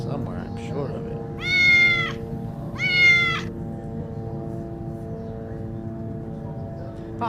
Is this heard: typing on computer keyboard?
no